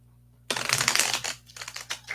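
A deck of oracle cards is shuffled close up, starting suddenly with a dense riffling flutter that runs for over a second, then breaks into several shorter papery bursts. No one talks.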